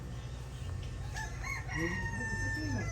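A loud, crowing call rises and falls over a steady low hum, a tokay gecko's barking cry in a pet shop, clear and fairly close.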